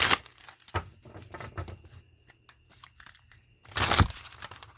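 Tarot cards being shuffled by hand, giving quick papery riffles and soft slaps. A burst comes at the start, scattered rustles follow, and a louder final riffle lands near the end.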